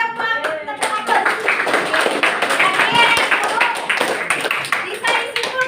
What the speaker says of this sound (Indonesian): Oke, bagus sekali, beri tepuk tangan.